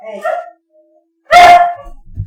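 A pet dog named Sassy barks at dinnertime, one loud close burst of barking standing alone after a brief stretch of quiet, with a fainter yip before it and light noise following.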